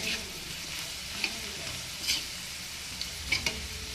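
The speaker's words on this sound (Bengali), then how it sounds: "শুধু জিরে ফোড়ন দিয়েছি আর দারচিনি ফোড়ন" Cumin seeds and cinnamon tempering in hot oil give a steady, fairly quiet sizzle with a few brief pops and spatters scattered across it, and no one speaks.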